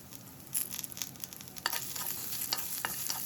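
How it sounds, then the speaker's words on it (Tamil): Capsicum and other vegetables sauté in a pan for a paneer stir fry, with a soft sizzle under repeated scraping and stirring strokes of a spatula, close and moderately loud. "ஸோ இதுவும் எடுத்துகிட்டு நல்லா வந்து வதக்கி விடுங்க"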